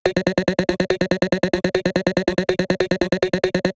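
Psychedelic vocal chops processed with OTT compression, a rapid, steady stutter of chopped fragments, heavily compressed and loud, repeating in a tight machine-gun rhythm with no pauses.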